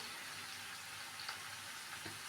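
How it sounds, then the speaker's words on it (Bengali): Chicken pieces frying in a small amount of oil in a pan, a steady soft sizzle with faint crackles, heard close and alone. "অল্প তেল দিয়ে তারপরে আমি আর কি মাংসটা ভাজতেছি"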